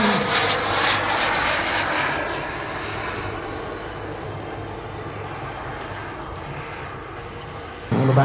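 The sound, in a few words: CARF Models MiG-17 RC jet model plane flying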